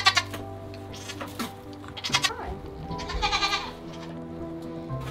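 Newborn baby goat bleats several times in short, loud cries, with a cluster of higher calls near the end and steady background hum.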